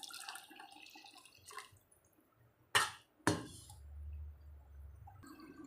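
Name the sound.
pouring dissolved tamarind water into boiling curry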